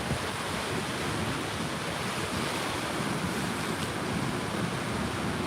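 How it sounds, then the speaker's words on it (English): Ocean surf along the Northern California coast near Fort Bragg under a tsunami advisory, a constant roaring wash of waves mixed with wind buffeting the microphone, loud and unbroken throughout. "There was some pretty big waves here just a little bit ago."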